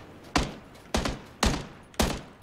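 Four evenly spaced gunshots ring out in the video game PUBG Battlegrounds, each a sharp crack with a short tail, loud and fairly close.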